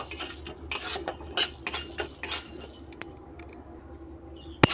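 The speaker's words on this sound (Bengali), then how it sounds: "এবারে দিয়ে দেব ছোলার ডালগুলো, ওগুলো আমি ভেজে নেব" Chana dal is stirred in a kadai as it fries: metal utensil clatters and dry rattling scrapes come in bursts over about three seconds, followed by near quiet and a single closing clink.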